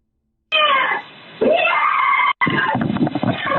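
A woman screaming during an emergency call, loud, shrill and strained wails that rise and break off repeatedly, filling the clip with brief gaps between outbursts.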